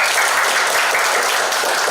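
A room of trainees at a training session claps together in a loud, thick wash of applause that stays steady throughout the short moment.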